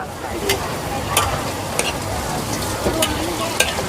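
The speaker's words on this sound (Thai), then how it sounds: "อันนี้กำลังจะแกงปลาดุกยี่หลานะคะ" Southern Thai catfish curry sizzles loudly in a pot while being stirred, a dense close crackle with sharp scraping strokes of the spoon at irregular intervals.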